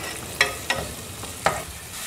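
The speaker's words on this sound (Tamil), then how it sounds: "இப்போ பாருங்கள், இந்த பூண்டு இஞ்சி வெங்காயம் எல்லாம் பாதி வதக்கிட்டோம்" Onion, curry leaves and ginger garlic paste sautéing in oil for a peas masala gravy, a soft steady sizzle punctuated by three crisp spoon scrapes against the pan, with no talking.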